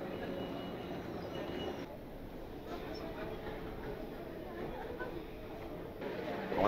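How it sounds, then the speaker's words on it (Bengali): The Howrah–Puri Superfast Express pulls into a station, a low steady rumble and rattle at moderate distance, with a faint murmur of people in the background. "আমাদের ট্রেন চলে এসছে"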